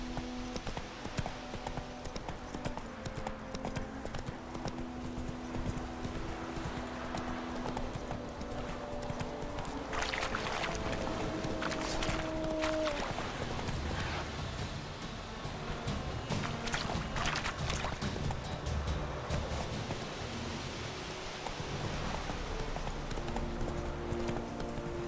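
Roach, the horse in The Witcher 3 video game, galloping with rapid rhythmic clip-clop hooves throughout, growing louder midway, over a low game ambience and music.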